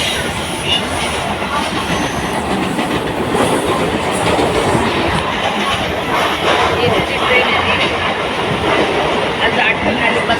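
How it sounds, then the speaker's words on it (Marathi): An AC local train running in Mumbai, heard from inside the carriage as a loud, continuous rumbling roar with rhythmic wheel clatter, steady throughout. "डोळे झाकून ट्रेन चालली"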